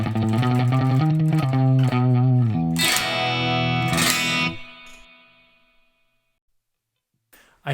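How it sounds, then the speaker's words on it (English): Electric guitar played through a tube spring reverb modeled on a 1963 Fender tube reverb unit in an Axe-Fx III: a run of picked notes, then two loud splashy chords whose shimmering spring tail decays slowly into near silence. "channel D changes the type to a tube spring reverb, which is based on a 63 Fender tube reverb unit"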